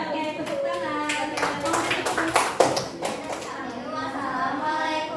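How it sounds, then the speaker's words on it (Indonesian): A classroom of sixth-grade primary school children clapping together, a dense patter of hand claps mixed with children's chatter, moderately loud and close. "Oke, tepuk tangan."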